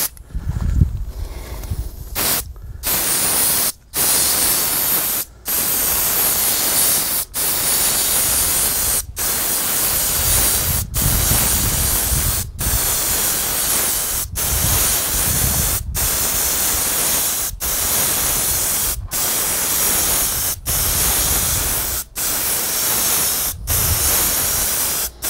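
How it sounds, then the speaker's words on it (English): Paint spray gun spraying gold paint onto a shaped sign: a loud, continuous hiss of compressed air and atomized paint in long bursts, broken by a dozen or so brief pauses as the trigger is released. "let's spray this gold"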